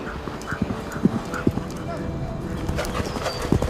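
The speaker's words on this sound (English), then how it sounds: "time to train on a horse" A horse's hooves clip-clop in a quick, uneven rhythm, close by, over a constant background noise.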